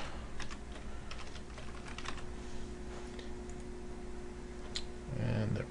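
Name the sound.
typing a new password on a computer keyboard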